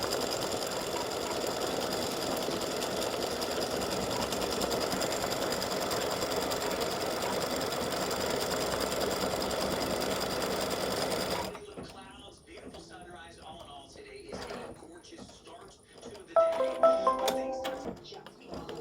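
An embroidery sewing machine stitches out a word in purple thread with a fast, steady, mechanical rattling hum for about eleven seconds. It then stops, leaving quieter handling clicks and knocks.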